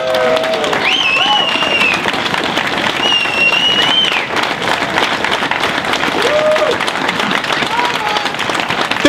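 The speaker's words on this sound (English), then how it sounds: "I want a round of applause for all of these people." A crowd applauds veterans at a public gathering, dense continuous clapping with scattered whistles and cheers rising above it, loud and steady throughout.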